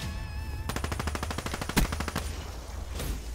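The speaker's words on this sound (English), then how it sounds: "Black Ops 3 for SMGs, I'm gonna have to go with the Weevil." Weevil submachine gun fired in Black Ops 3, a fast burst of about fifteen evenly spaced shots lasting under two seconds, loud and close, followed by a faint tail.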